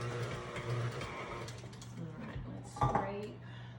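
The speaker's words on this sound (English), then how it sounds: "I did my whisk attachment for my KitchenAid" A KitchenAid stand mixer runs with its whisk attachment, giving a steady mechanical whir and low motor hum with ticking, clattering gear noise, plus a brief louder bump near the end.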